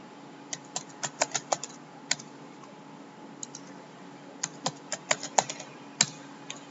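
Keys on a computer keyboard are tapped in irregular bursts of sharp, close clicks, clustered in quick runs with short pauses between, like a password being entered, over a faint steady hum.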